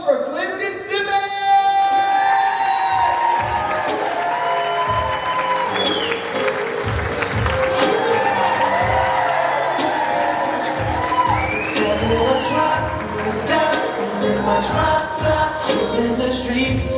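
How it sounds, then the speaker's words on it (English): Crowd at a comedy club in San Antonio applauding, cheering and whooping as a comedian is introduced, loud and sustained throughout with shouts rising above the clapping. "a round of applause for Clifton Simmons!"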